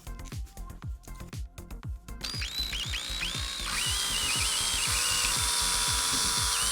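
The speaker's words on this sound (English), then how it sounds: "with a drill bit the same size as the straws to make the holes through the bottle caps" A power drill whirs in short bursts, then runs continuously with a high grinding whine as the bit bores through plastic bottle caps.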